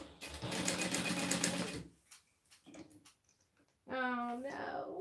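A sewing machine stitches car trash cans in a bursting, whirring run that stops abruptly. Quiet rustles and clicks follow, then a person speaks.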